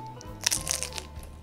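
Someone bites into a thin, crispy chocolate flatbread with white chocolate, caramelized hazelnuts and confection topping, giving a short close crunch followed by a few faint crackles, with a low steady hum in the background.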